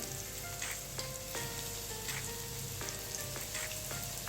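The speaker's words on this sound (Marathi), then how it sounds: "आता इथे मी पॅनमध्ये सॅल फ्राय करण्यासाठी तेल ठेवलेलं आहे" Alu vadi pieces shallow frying in oil in a pan, a continuous close crackling sizzle with background music and no speech.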